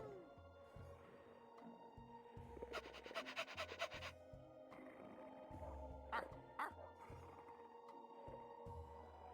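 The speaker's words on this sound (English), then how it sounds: "It's a smelly old dog." A dog in a video game pants in a quick, rapid burst partway through, with a few short yips, over a quiet, tonal background music loop.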